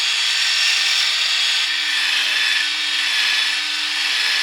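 A drill-driven sanding pad scours a plastic car headlight on a cheap Acura TSX with 800-grit paper, a loud, steady abrasive hiss with a faint motor whine underneath, continuous and close.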